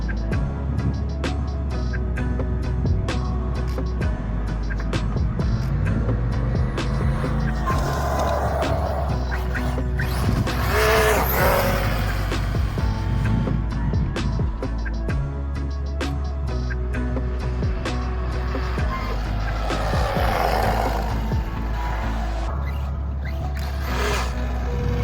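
Arrma Mojave 4S RC truck running at full throttle on a speed test, its electric motor whining steadily for about 25 seconds with rising and falling pitch as it passes nearer and farther.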